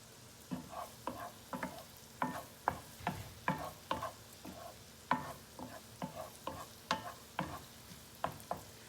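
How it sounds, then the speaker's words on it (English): Food sizzling in a pan under rhythmic stirring scrapes, a steady series of soft strokes close up, no talking. "This is starting to sizzle nicely."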